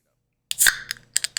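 A drink can cracked open, a sharp snap and hiss with a couple of quick follow-up clicks, close and fairly loud after a silent start.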